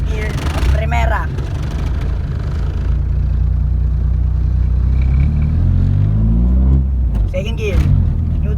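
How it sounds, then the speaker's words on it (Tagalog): A car pulls away in first gear, its low engine rumble holding steady and then rising in pitch as it accelerates, loud and close, with someone talking over it. "as long as it takes a good acceleration, once again I will put it on the first gear of Primera"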